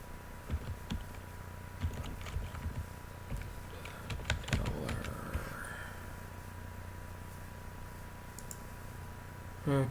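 A name is typed on a computer keyboard in quick irregular bursts of close, crisp clicks, thinning out partway through against a faint background hum.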